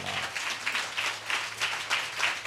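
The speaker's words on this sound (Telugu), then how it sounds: "అందుకు చప్పట్లు కొట్టండి" A church congregation applauds steadily, many hands clapping in a dense sustained wash that swells and dips in loose waves throughout.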